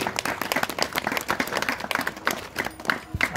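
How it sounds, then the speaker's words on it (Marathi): An audience at a gathering applauds, dense overlapping hand claps, loud and sustained throughout. "सर्वांनी टाळ्या वाजवायचे."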